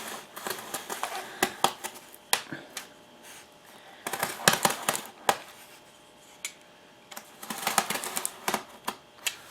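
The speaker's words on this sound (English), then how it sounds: "I'm just going to take my knife here and I'm just going to cut all this" A knife cuts into a plastic lid, making a quiet series of sharp clicks and crackling snaps in irregular bursts, with short pauses between clusters.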